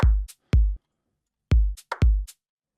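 Punchy electronic clap sample in an organic house production, shifted 32 milliseconds early, played as five sharp hits in an uneven pattern with short gaps and no talking.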